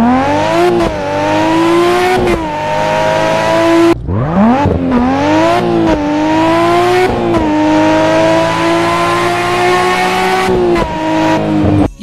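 A video game car engine with the Soundize mod, driven by CJ, roars loudly and up close, revving up through gears with repeated sharp pitch drops at each shift, and no talk.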